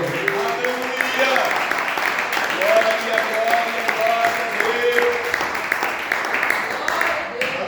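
A church congregation claps joyfully to glorify the Lord, a continuous wash of applause heard together with a voice speaking over it and faint tonal sounds in the background.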